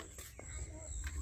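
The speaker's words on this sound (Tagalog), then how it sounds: "Tunog ng mga ibon." Birds call outdoors at sunset in Nepal, with short chirps and whistled notes rising over a low rumbling background while someone speaks nearby.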